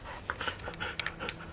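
A dog pants close by in quick, breathy bursts, with soft irregular huffs and sniffs over a quiet room.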